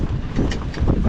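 Constant wind blows hard into the microphone at a campsite with a tent, a loud low rumbling roar pulsing in short gusts without pause.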